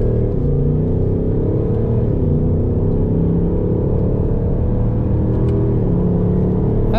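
A 2024 Ford Mustang GT drives along a winding road, its engine producing a loud, steady droning rumble from inside the cabin, with pitch rising and falling slightly as the car moves through the curves and no one speaking.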